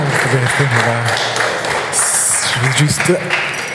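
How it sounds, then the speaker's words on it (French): An audience at a festival applauds after a presentation, with clapping and scattered thumps running beneath speech and voices. "Je crois qu'on peut bien vous applaudir bien fort pour cette présentation."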